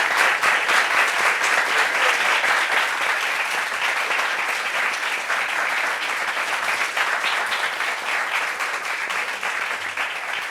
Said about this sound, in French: c'est Lyon Romari, qu'on applaudit pour lui